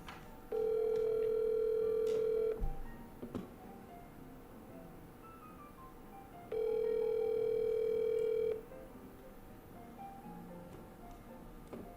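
An outgoing telephone call rings back twice, each steady electronic tone lasting about two seconds with a long silent gap between them, heard clearly over quiet room background.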